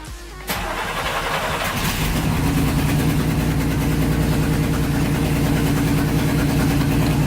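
A project car's engine cranks and catches about half a second in, then settles into a steady, loud, close idle in neutral that runs unbroken to the end.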